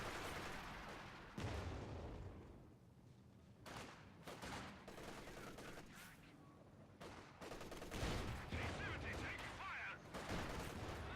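Rapid gunfire and artillery blasts from a real-time strategy war game, with a PM41 mortar and ISG infantry gun firing among MG34 machine guns, Volksgrenadiers, Obersoldaten and a T-70 tank; dense repeated bursts and booms continue throughout, with a commentator talking over them.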